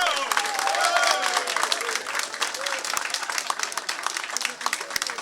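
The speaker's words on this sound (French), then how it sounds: "Qu'on applaudisse le ministre des Travaux publics, Fritz Caillot." Applause from an audience at an installation ceremony for new Haitian ministers, greeting the new public works minister, Fritz Caillot; steady dense clapping throughout with a faint voice under it.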